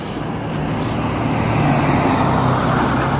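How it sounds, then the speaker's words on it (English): Heavy FedEx lorry driving past on a busy road, a loud continuous low rumble of engine and tyres blending with steady traffic noise throughout. "Thick FedEx lorry."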